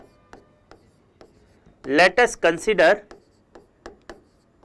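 Marker or chalk strokes on a classroom board during a physics lesson, a quick run of scratchy writing strokes in the middle with a few softer taps before and after, close and fairly loud.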